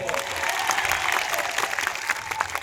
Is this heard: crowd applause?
yes